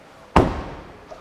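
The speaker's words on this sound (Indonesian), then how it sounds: "pintu belakang saya banting yang keras." A Daihatsu Ayla's rear door slams shut hard, giving a single heavy, close thud that rings off and decays over about a second, followed by a faint small click.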